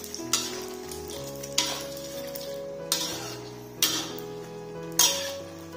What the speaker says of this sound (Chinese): 现在把煎好的腐竹给加进去翻拌一下